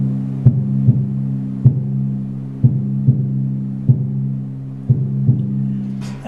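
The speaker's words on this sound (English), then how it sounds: "if I tried to do that with these sticks on the 26-inch drum" A large 26-inch drum is struck with sticks, giving deep, booming thuds in a slow, paired heartbeat-like rhythm, each stroke ringing with a sustained low hum between hits.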